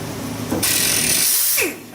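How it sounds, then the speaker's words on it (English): A small orbital sander with 80 grit paper runs over rusty metal, a loud sustained broadband whir that starts abruptly partway in and holds steady before easing off near the end, with faint low rumble beneath. "I'm going to run the little orbital sander over it"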